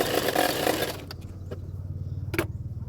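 A sewing machine stitches a double katori blouse with a soft, quick rhythmic hum of needle strokes, quiet and close, after a short burst of rustling fabric handling and a couple of light clicks.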